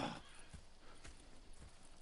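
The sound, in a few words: horse hooves clip-clopping in video game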